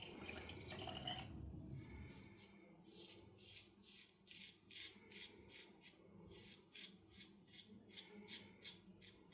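A Rockwell safety razor rinsed under a running tap, a faint watery splash followed by a series of quick, regular tapping and rubbing sounds, very quiet and close.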